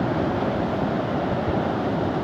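Rough sea surf rolling in at a river mouth on a windy coast, a steady loud roar of waves and wind filling the whole stretch, near and unbroken, with no voices.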